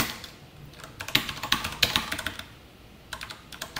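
Code is typed on a computer keyboard in irregular clusters of crisp, close keystrokes with short pauses between bursts, with no voices.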